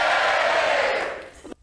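A studio audience at a 1990s BBC sports comedy panel show cheers and roars loudly in a single sustained burst that fades out after about a second and a half.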